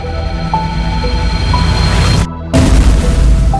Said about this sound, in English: Suddenly, a mysterious explosion happened